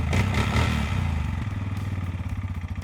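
A cheap Chinese 4x4 ATV engine with liquid cooling and a CVT idles quietly with a steady low chugging pulse, fairly close and constant, with some clattering at the start.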